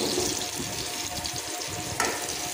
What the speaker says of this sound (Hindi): अब इसमें हमने जो कद्दू काट के रखे थे उन कद्दूओं को डाल देंगे